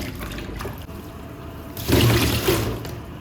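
Running water splashes steadily over potatoes being washed, swelling louder midway as if a rinse stream hits a bowl, then continuing in a close, even trickle.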